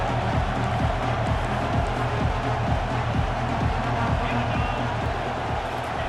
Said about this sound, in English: Here comes this home crowd as the defense tries tries to get off the field on third down.